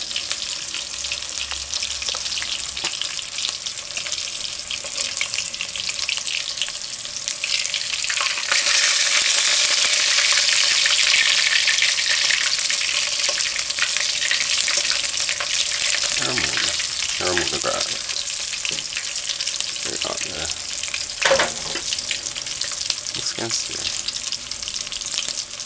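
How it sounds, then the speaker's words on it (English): Sliced king fish callaloo in a pot gives off a steady bubbling sizzle that swells loud for a stretch and then eases, with occasional clinks and stirring near the end. "If you hear that get less and less, that's a sign to say it's cooked."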